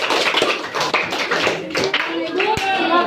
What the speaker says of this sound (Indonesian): Oke, tepuk tangan untuk kelompok 3.